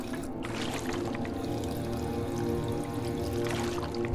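Water drawn from a water pump in Fallout 76 pours in a steady, continuous gush that stays even in level for the whole stretch, with no voices over it.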